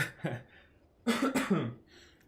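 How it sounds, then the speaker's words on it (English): A short cough, then a pause before a louder burst of two or three harsh, nearby coughs. "hold on, I got a cough."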